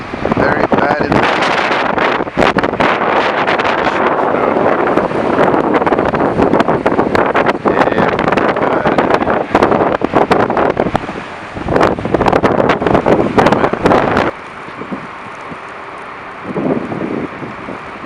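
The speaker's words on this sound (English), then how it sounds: "Oh man, the wind gusts are very, very bad." Strong wind gusts in a Montreal snowstorm roar loudly and continuously against a car driving through rush-hour traffic, buffeting in long rough waves before easing slightly near the end.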